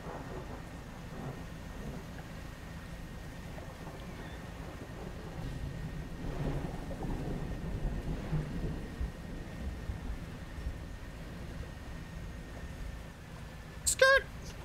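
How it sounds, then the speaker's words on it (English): Rain falls steadily in the fishing video game Dredge, with low rolling thunder swelling in the middle and a sharp electronic tone near the end, all fairly faint. "It's raining and I don't like it."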